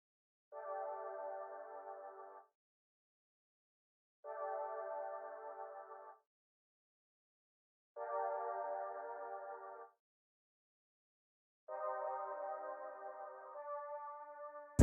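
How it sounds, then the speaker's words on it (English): Layered synth chord pattern from a sample kit, played as four sustained two-second phrases separated by silences, the last phrase shifting to a different chord; clean, mid-register and moderately quiet, with no voices. "And the full synth pattern is sounding like this."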